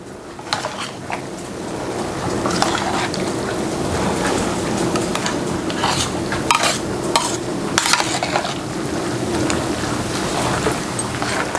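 Thick macaroni and cheese mixed with eggs is stirred steadily in a bowl, giving a continuous close, wet squelching and scraping texture with irregular clicks and knocks, alone without talk.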